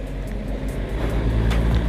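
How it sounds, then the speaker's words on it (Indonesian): A Pertamina tanker truck passes on a provincial road near Jampang Tengah, Sukabumi, giving a steady, fairly loud low engine and road rumble that swells slightly as it goes by. "Wow, ada truk Pertamina euy ka dieu euy."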